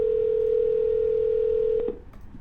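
A phone placing a cold call: a steady, loud single-pitch dial tone holds for nearly two seconds, then brief dialing beeps cut it off, leaving faint line hiss.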